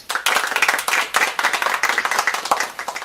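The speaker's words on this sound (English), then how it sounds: "Let's hand these children another round of applause." An audience applauds children at a confirmation celebration with brisk, dense clapping that swells and pulses throughout, no talk over it.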